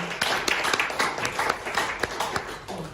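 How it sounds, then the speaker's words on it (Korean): A ceremony audience gives a hearty round of applause for an introduced guest, with close, distinct claps standing out sharply over the denser clapping of the crowd for about three seconds. "다시 한번 큰 박수 부탁드리겠습니다."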